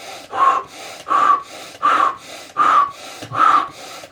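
A person does a breathing exercise: five forceful, evenly spaced breaths in a steady rhythm, close and loud, with no talking.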